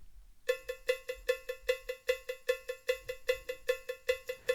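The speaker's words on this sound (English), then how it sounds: "Next we have our cowbell." A cowbell with its brightest highs trimmed plays in a music production, a crisp metallic clank struck in a steady, repeating rhythm of single and double hits, clear and alone with no talk.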